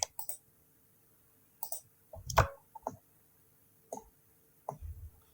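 Computer mouse clicking while faces are selected in Blender, about half a dozen sharp close clicks in irregular pairs separated by quiet pauses, with one heavier thump midway.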